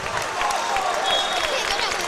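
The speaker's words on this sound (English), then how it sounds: "You hear this crowd loud in front of us." A basketball crowd at a Division 5 high school semifinal cheers and applauds in a loud, continuous wash of noise, with a commentator talking over it.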